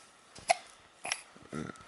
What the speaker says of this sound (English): Thinking about these hiccups.